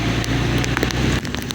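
Steady hiss and patter of rain on a road heard while riding a motorbike in the rain, dense crackling wash with no voices.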